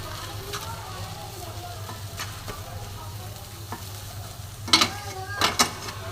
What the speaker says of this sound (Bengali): খুব সুন্দর করে ভাজা ভাজা করে নেবো